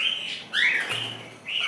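A pair of pet birds, harlequin and white-faced, chirps close by in a few short, bright calls separated by brief pauses.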